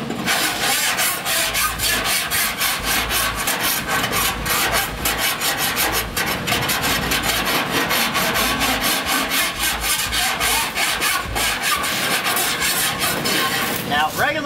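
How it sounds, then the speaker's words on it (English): Metal file worked by hand across the body panel of a 1948 Chevy Cabriolet: continuous loud, gritty rasping strokes in a fast steady rhythm, close up and unbroken throughout. "I'm filing all this area"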